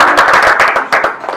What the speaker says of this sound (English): nice big round of applause for Pam Coulter